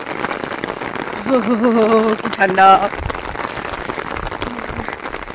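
Heavy rain pours steadily on the trail to Prut Falls near Cherrapunji, Meghalaya, a dense hiss that runs through the whole stretch while people talk briefly in the middle.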